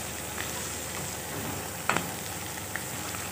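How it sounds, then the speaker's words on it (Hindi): Bitter gourd (karela) seeds frying in oil in a pan, a steady soft sizzle with a few brief clicks and pops near the end, no talking. "ये बीज हैं जिन्हें मैं अब आखिर में ही फ्राई कर रही हूँ"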